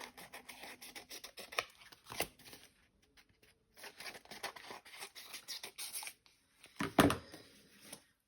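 Scissors cutting through paper in short bursts of crisp snipping and rustling, close and fairly quiet with pauses between cuts and a sharper louder snip near the end.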